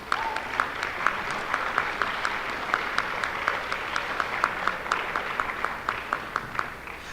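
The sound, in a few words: audience applause at band concert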